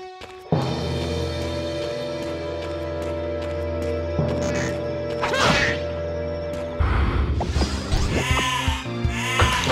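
Repeated sheep bleats in a video game over a loud, busy backdrop of music and effects, with sharp hits and sudden shifts in sound.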